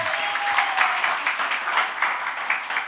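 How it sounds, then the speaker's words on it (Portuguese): A church congregation claps for the lighting operator, a short dense round of applause with steady crisp clapping from many hands. "Uma salva de palmas para o Alisson."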